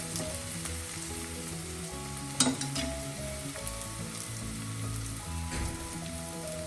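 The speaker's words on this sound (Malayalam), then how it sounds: "ലോ ഫ്ലെയിമിലിട്ട് നമുക്കൊന്ന് മൂപ്പിച്ചെടുക്കാം." Red cow peas frying on a low flame, giving a soft continuous sizzle with a few sharper clinks of stirring over a quiet, steady crackle.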